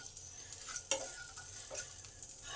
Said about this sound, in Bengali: এবার এই সমগ্র মশলাগুলোকে ভালো করে একটু নেড়ে নেব কয়েক সেকেন্ড